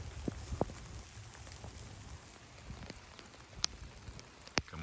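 Steady rain falling outside near a cabin on a farm, a soft continuous patter with a few sharper drops tapping close by, no voices.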